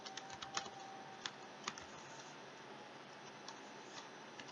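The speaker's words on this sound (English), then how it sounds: "I'm sure you hear the banging pretty loud of the keys" Faint, irregular key clicks from typing on a computer keyboard, scattered light taps with a few sharper strikes over a steady background hiss, no talking.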